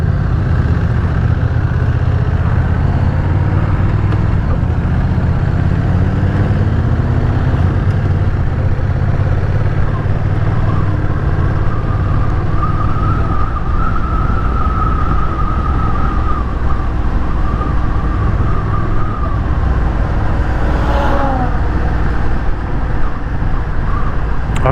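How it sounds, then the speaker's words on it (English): Honda Rebel 1100 DCT motorcycle on a demo ride at Americade 2021, a continuous low engine and exhaust drone with wind and road noise, steady throughout with no talking. "I hope you guys hear that exhaust. It really does sound nice. It's good throaty sound to it."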